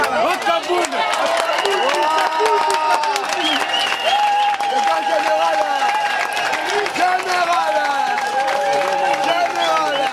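Sustained crowd applause with cheering and a busy babble of voices at a UDPS party presidential election event, loud and steady throughout.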